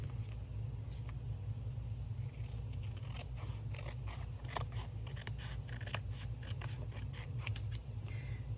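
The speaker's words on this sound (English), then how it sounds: "So I'm just cutting around where that part was." Scissors snip and slice through wallpaper in quick, repeated cuts while it is trimmed, close and crisp over a constant low rumble of traffic in the background, with no talking.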